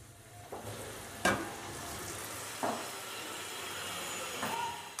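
Almonds roast in a kadhai with a soft, continuous sizzle and a few sharp stirring scrapes at intervals, close but quiet and without speech.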